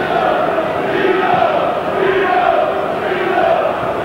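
Football crowd at a 1992/93 English league match between Charlton Athletic and Birmingham City, a sustained rumbling roar and jeering from the terraces at moderate distance, with no clear voices over it.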